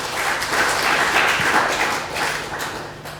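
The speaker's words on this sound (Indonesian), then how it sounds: "Kasih tepuk tangan untuk Tuhan" A congregation at a Sunday church service claps, giving applause to God. Dense, moderately loud clapping from many hands continues steadily, with a faint low hum beneath it.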